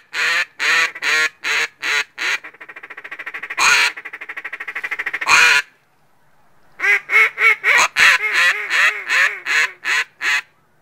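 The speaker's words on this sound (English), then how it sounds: "A duck call is another tool that can be used to bring waterfowl to within shooting range" A hunter's duck call blows a series of sharp, rhythmic quacks, then a long drawn-out raspy note, followed by another rapid run of quacks.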